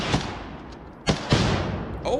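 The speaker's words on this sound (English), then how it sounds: "You hear some sporadic firing still going on." Sporadic gunfire during combat near a border area: a few sharp, isolated shots spaced irregularly across a couple of seconds, moderately loud with no talking.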